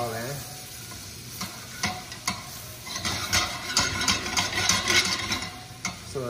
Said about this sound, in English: You're going to get your spatula and kind of like mix that all in.